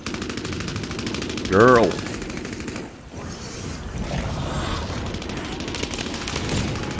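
Rapid gunfire rattles in the BloodHunt vampire battle-royale video game, a continuous, fast machine-gun-like stream of shots under a brief spoken word, with a loud burst standing out early.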